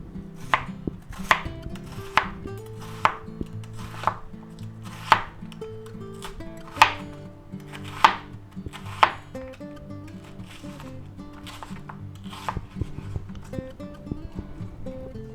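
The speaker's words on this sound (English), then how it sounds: "now we'll just go ahead and slice them up" A knife slicing bok choy on a cutting board makes about a dozen crisp, sharp chops at a fairly steady rhythm, close and clear, while a low tonal sound runs underneath.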